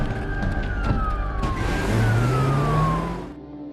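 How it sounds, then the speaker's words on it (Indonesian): Police siren wailing in an action movie scene, two falling sweeping tones heard over engine rumble and traffic noise, fairly loud and near, then the sound drops away abruptly. "terdengar suara sirene polisi"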